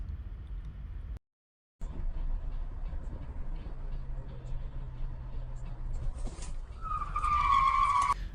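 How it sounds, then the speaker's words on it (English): A car hydroplaning on a briefly rain-wet Miami road as the driver loses control and spins out, a rising high tire screech near the end over a steady road and traffic rumble, with a short dropout early on. "It rained ever so briefly in Miami and the driver lost control and spun out."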